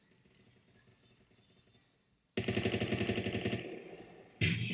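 AUG A1 rifle fire in Phantom Forces, classic version: a faint rattle of distant shots gives way to a loud, close automatic burst of evenly spaced rounds, followed by another sharp blast at the end.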